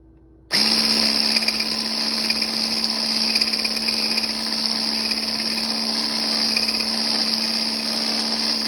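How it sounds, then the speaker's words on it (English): An immersion blender whirs steadily while blending a tahini sauce with liquid aminos or soy sauce, starting abruptly and holding a loud, continuous high-pitched motor drone throughout. "Now we are going to use the emulsion blender and create"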